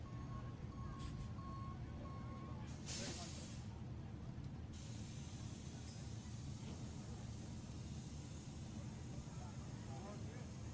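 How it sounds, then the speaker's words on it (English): Track slide truck at a short-track race at Houston Motorsports Park: a steady reversing beep at first, then a loud hiss of air brakes releasing, over a constant low engine rumble and crowd ambience. "the slide truck makes its way back out"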